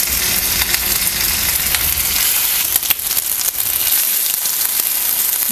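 Potato and besan snack pieces dropped into hot oil fry with a loud, dense, continuous sizzle and crackle, with a few brief bumps as pieces go in.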